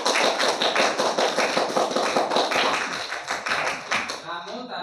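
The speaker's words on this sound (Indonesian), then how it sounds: "Tepuk tangan bagi semua." A group of students claps in a rapid, sustained burst of applause in a classroom, close and loud, thinning out toward the end.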